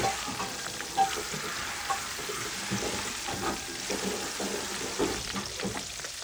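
Fish sizzling and crackling steadily in hot oil, with occasional clinks and scraping nearby.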